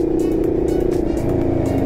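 Heavy road traffic heard from a CFMoto NK400 motorcycle during a group ride. A steady, close engine drone runs throughout, with faint passing hiss from surrounding vehicles.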